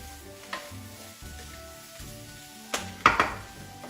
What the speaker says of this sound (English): this is gonna simmer for a few minutes, 5 or 10 minutes